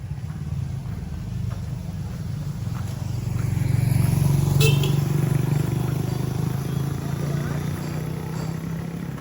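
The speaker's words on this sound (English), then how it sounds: "Some stranger following me on a motorcycle" A motorcycle engine putters steadily behind someone walking along a road in Bingawan, Philippines, its low drone growing a little louder midway and then easing off, with no talk.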